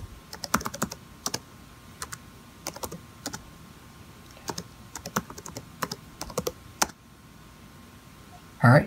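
A password is typed on a Mac computer keyboard, giving sharp, evenly spaced keystrokes with brief pauses over a low background hiss, and one louder key press at the end.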